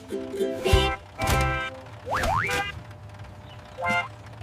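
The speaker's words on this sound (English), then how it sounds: "the horn on the ice cream bus goes beep" A cartoonish ice cream bus horn honks in a few short bursts with a rising, springy boing-like tone, spaced apart with brief pauses.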